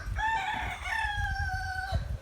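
A rooster crows one long drawn-out call at moderate distance, over a low background rumble and some soft clucking.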